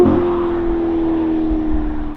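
Ferrari SF90 fitted with a Novitec exhaust system, a close, steady engine drone with a strong low tone that holds evenly and fades slightly at the end.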